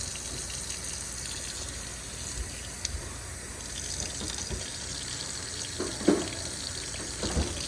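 Canned beans rinsed under a running kitchen faucet, a steady gushing stream of water with occasional splashes and clunks as the can or beans shift, close and continuous with no speech.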